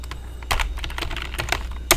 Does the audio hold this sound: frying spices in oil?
no